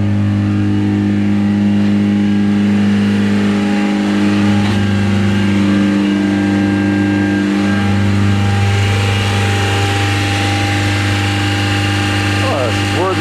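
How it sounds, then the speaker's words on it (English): An older Honda car with a rotten muffler runs loudly up close, its engine droning in a steady, rumbling tone with gentle rises in revs throughout, while a person talks over it. "Sure does have a rotten muffler."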